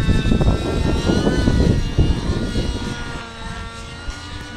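The loud, buzzing engine of a Senergy N7 model helicopter revs hard and whines steadily, then eases slightly toward the end, up close with no talking.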